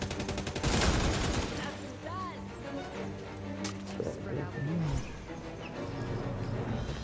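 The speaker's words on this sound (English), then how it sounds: "Oh, who's shooting me?" Bursts of rapid gunfire in the video game Redfall crackle over a busy game soundscape, with repeated volleys and scattered single shots mixed with other effects while players talk over the action.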